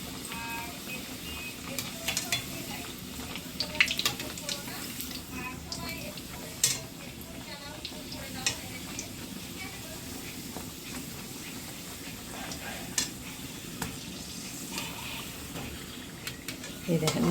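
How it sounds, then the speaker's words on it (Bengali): Naan dough fries in hot oil, a continuous bubbling sizzle with occasional utensil knocks and stirring scrapes, with no talking. "ভেজে নিই ভালো করে"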